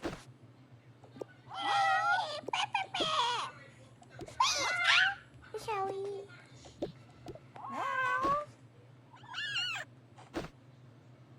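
Cartoon cat meows from the Toca Boca video game, five or six high wavering calls spaced a second or two apart, with a brief spoken word between them.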